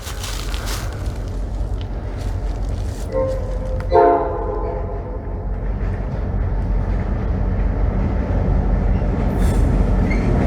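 Diesel train passing through Lehigh Gorge, a steady loud rumble of engine and rolling wagons throughout, with a brief horn-like tonal burst near the middle, alone without talk.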